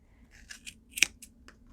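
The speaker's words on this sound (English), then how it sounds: "you're just going to want to stick your scissors into that groove that I showed you at the beginning of the video. You're just going to start snipping." Scissors snip through yarn wound into a pom pom, several short crisp cuts spaced unevenly, close and clear against a quiet background.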